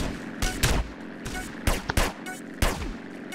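Gunfire in a first-person shooter game rings out as several sharp, loud shots in irregular bursts over steady background game noise, with some overlapping echoing cracks.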